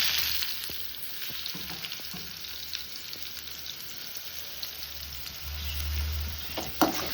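Chopped onions sizzle steadily in hot oil in a home kitchen pan, the start of a South Indian potato fry for tomato rice; a close, continuous crackling hiss with a few sharper pops and stirring scrapes, and no voices.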